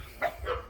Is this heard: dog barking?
yes